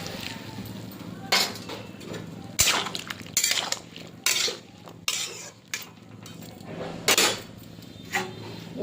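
Metal clinks and scrapes of a pot and its lid being handled on a stovetop as vegetables in salted water are set to boil, several sharp knocks and clatters spaced over a quiet background.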